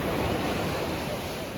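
Sea waves break on Vizag beach, a dense, continuous wash of surf heard up close, with rushing wind buffeting the microphone and no clear voices.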